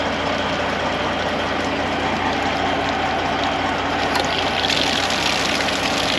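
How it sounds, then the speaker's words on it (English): Water drains from a hot water heater in a race car hauler being readied for cold weather, a steady, loud rushing hiss with a low pump-like rumble that continues unbroken throughout, with no voices. "Draining hot water heater."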